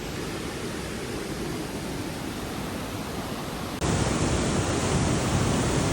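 Clear river water flows in a steady, broadband rush with no letup; the level jumps abruptly partway through, as if moving closer to the current.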